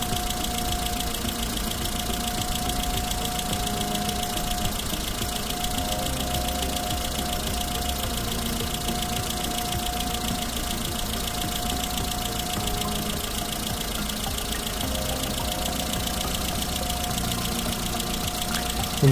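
A car engine runs steadily at raised revs during a battery load test with a Kingbolen BM560 tester, giving a constant loud mechanical drone and knock-like rattle for the whole stretch, with no talk.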